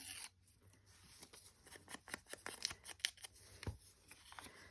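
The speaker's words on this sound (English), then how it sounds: "Tear this a little bit more" Paper from a receipt roll is torn by hand in a series of short, close rips and crinkles, quiet and irregular, with small rustles between them and no talking.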